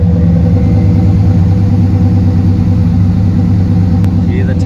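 A car engine runs steadily through a custom aftermarket exhaust, giving a loud, deep, constant droning rumble close up, with someone speaking over it.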